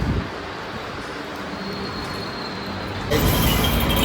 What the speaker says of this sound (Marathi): आता नऊ आठ बेचाळीसची ट्रेन पकडायची आपल्याला